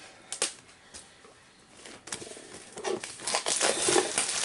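Crinkly plastic wrapper of a Magic trading card pack being worked open by hand, close and fairly quiet, with sharp crackles and rustles that grow busier and denser toward the end.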